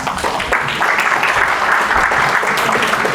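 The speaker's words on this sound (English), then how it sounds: "Give them a round of applause, please." Steady audience applause fills a religious lecture hall at a pre-Rosh Hashanah evening event, a dense continuous wash of many hands clapping at even loudness with no talk over it.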